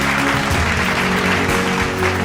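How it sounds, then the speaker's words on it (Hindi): Audience applause fills a healthcare awards ceremony in Agra, a dense, steady wash of many hands clapping close by that holds at full strength throughout. "Please जोरदार तालियों के साथ everybody."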